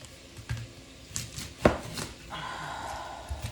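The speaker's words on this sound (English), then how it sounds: "I'm going to cut it in half because we don't need all of it." A knife slices an onion in half on a cutting board, giving a few soft thuds and one sharp chop against the board, followed by a faint rustle of handling.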